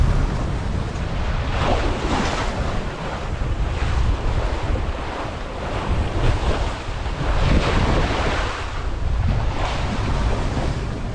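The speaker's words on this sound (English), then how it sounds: "the water is splashing a little bit over the beam and making the cockpit wet." Open Pacific Ocean water repeatedly surging and splashing over a sailboat's beam into the cockpit, with rushing swells under constant loud wind buffeting the microphone.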